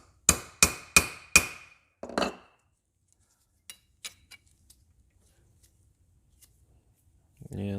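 A hammer taps a tack weld on a sheet metal panel: four quick, ringing metallic strikes in a row, then a duller fifth hit, followed by scattered light ticks and a brief voice at the very end.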